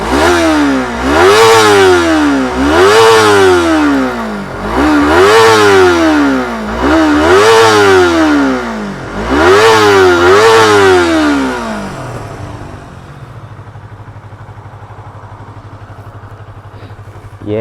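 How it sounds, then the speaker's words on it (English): A stock-exhaust Yamaha R25 sport bike, a high-revving engine, screams through five or six sharp throttle blips in a rhythmic rise-and-fall pattern, loud and close. It then drops to a steady low idle. "For a stock exhaust, as far as stock goes, it's not too shabby."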